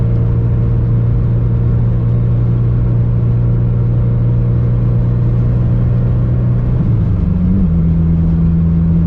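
A Mitsubishi Evo on the road with a freshly built, untuned engine, its steady low drone and hum under load, with a faint rising whir of the turbo starting to spool before the pitch shifts near the end.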